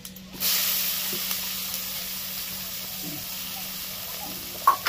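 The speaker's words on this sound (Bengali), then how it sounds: "পেঁয়াজ দেখো ভাজা চলছে" Chopped onion frying in hot oil with garlic and cumin, a steady close hiss and sizzle that starts abruptly and holds evenly, ending with a light clatter.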